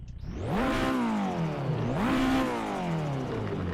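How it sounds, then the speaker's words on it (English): A car from the VDC pack in a driving game revs hard, its engine pitch climbing, dropping and climbing again in two loud sweeps with a rough, crackly edge, no voices over it. "Oh, it's already backfiring and I've only just hopped into it."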